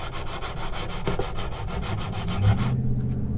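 Frets on an acoustic guitar being sanded by hand, a rhythmic series of close, scratchy back-and-forth rubbing strokes, about a dozen in quick succession, ending with a faint tonal ring as the strokes stop.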